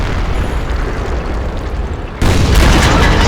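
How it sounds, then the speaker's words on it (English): A giant tank cannon firing in a tank battle video game, a loud sustained booming roar that jumps to an even heavier blast partway through. "Giant flipping cannon."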